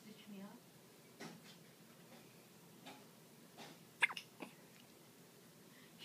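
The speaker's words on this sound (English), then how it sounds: "Your hiccups will be gone by then." Hiccups from a person in a quiet indoor room, a few faint, sharp catches spaced seconds apart with soft breathing between them.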